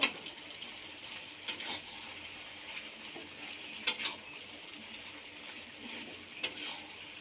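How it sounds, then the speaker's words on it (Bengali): Boiled potatoes being sautéed into a vegetarian jackfruit curry, a low steady sizzle punctuated by a few distinct scrapes and clinks of a stirring spoon against the pan. "এবার ভালো করে কষিয়ে নেব।"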